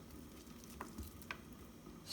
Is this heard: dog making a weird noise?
no